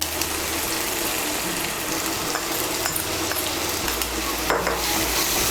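Spice paste of chilli and cumin powder sizzling and being stirred in a pan for Bengali boal fish curry, continuous frying hiss with scraping stirs and no talk.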